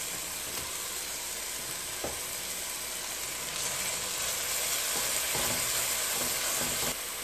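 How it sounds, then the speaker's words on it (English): Paste stirred into browned onions in a hot pan, giving a steady loud sizzle with a few scraping strokes of the spoon and a brief surge of hiss partway through. "the next step is we're going to add in our paste and stir that in."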